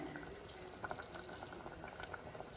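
A peanut curry with coconut milk simmers at a rolling boil, a soft, faint bubbling and gurgling with scattered small pops, steady throughout and heard up close without any voices.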